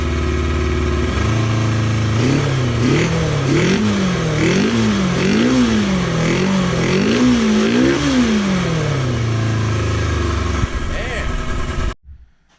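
A GPZ550 motorcycle engine converted for an ATV runs after a carburetor rebuild, idling close and loud, then revving in a series of rising and falling blips before settling back and cutting off abruptly.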